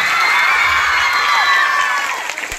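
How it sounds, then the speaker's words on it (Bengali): A school annual function audience cheers and claps, a loud, continuous crowd roar with shouts and whoops that holds steady for a few seconds before thinning slightly at the end. "দাদার জন্য যদি সবাই একটা জোর করে হাততালি দিতে খুব ভালো"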